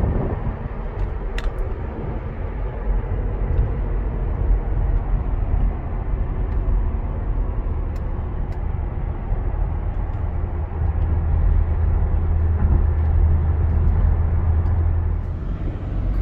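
A 2007 Mercedes SL550 rolls past with a steady, continuous low rumble of engine and road noise that swells slightly near the end, no voices present.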